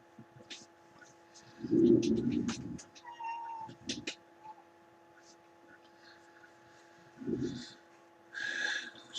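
A kitten meows close by, giving several drawn-out cries with pauses between them, while a person speaks quietly in the background.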